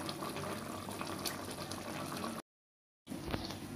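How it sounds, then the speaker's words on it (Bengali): Taro and hilsa fish curry broth boils in a pot with a steady, close bubbling hiss that cuts out abruptly for a moment, then resumes. "ঝোলটা ফুটে উঠছে"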